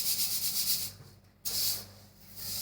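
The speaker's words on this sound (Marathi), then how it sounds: "आणि याच्यामध्ये आता हे चाळणीने चाळून घ्यायचे" Homemade coriander powder shaken through a sieve makes a steady, close rasping and rubbing hiss, broken by a brief pause midway before the scraping resumes; no one talks.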